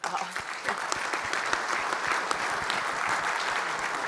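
Steady applause from a conference audience at a power-plant panel session, dense and evenly sustained for the whole stretch with no break.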